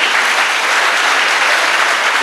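Steady, dense applause from an audience at a school awareness event marking Gandhi Jayanti, loud and continuous throughout with no voices on top.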